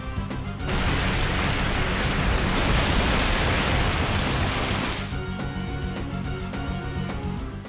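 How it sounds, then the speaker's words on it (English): Waterfall attack effect in Pokemon XD: a loud, dense rushing roar of crashing water fills most of the stretch, then eases into softer layered game sounds. "So, I'll use Waterfall on Gengar."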